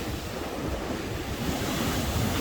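Irish Sea surf at Blackpool, a continuous broadband wash of breaking waves with heavy wind buffeting the microphone, steady and fairly loud with no voices.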